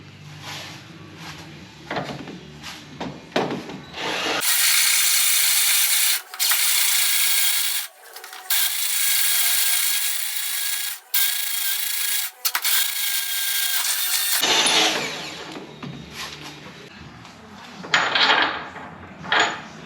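A drill bores a hole through metal for a track bar bolt during a Jeep XJ Metalcloak 3.5-inch lift install, a loud steady whine lasting about ten seconds with a few brief pauses, close up with no talk.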